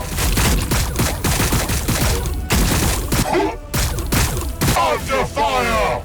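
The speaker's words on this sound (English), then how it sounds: "We're taking fire!" Dense gunfire in the Warhammer 40k Battlesector video game, loud overlapping volleys and bursts of shots with thuds, mixed with game voice lines and battle effects throughout.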